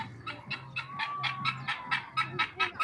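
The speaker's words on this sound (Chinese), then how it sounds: "这是什么什么鸡啊？珍珠鸡跟那个什么芦花鸡啊？" Guinea fowl and barred chickens at a farm, a rapid steady run of sharp clucking calls, about a dozen evenly spaced bursts, close and loud over faint background noise.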